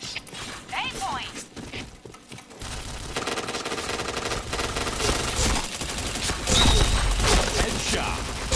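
Rapid gunfire from the shooter game Point Blank crackles in bursts alongside clanking weapon mechanisms, growing louder and denser toward the end, with a voice talking over part of the action.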